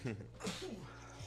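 A person sneezes once, a short sharp burst near the start, during a casual movie-review chat, with other voices talking around it.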